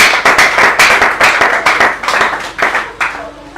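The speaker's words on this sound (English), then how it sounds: "let's give the Lord a clap of praise" A church congregation claps in praise, with a series of roughly regular, sharp group claps in a steady pulse, fairly close and loud, and no talking over them.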